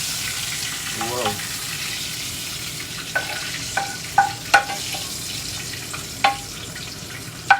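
Three strips of bacon frying in a pan, giving a steady close sizzle with scattered sharp pops and crackles spread across the stretch, with no one talking.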